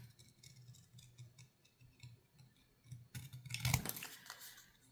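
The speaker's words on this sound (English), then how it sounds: "I'm only cutting the bag" Scissors snipping through a bag for a card craft, a series of soft crisp cuts at close range ending in a louder crinkly rustle and snip.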